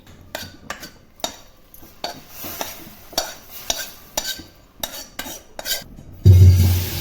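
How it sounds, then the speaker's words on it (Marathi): Roasted dry fruits stirred into milk for basundi, a spoon scraping and clinking against the pan in a series of sharp, close strokes, ending with a louder bubbling rush. "आता आपण याला दुधामध्ये टाकून घेऊया।"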